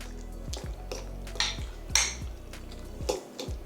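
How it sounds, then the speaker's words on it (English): A utensil stirs a seven-layer dip seasoned with lime and pepper, making soft repeated clinks and squishy scrapes against the dish at a steady pace, close up and with no talk. "Is a bit more lime. And some pepper. Give it a little stir."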